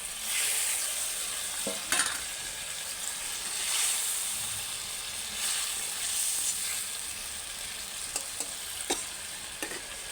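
Fish fries in a pan with a soft, steady sizzle of hot oil, stirred now and then with light scraping and a few clinks, close and alone without talk.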